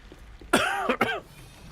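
A person coughs twice in quick succession, close and fairly loud, harsh throaty bursts against a quiet background.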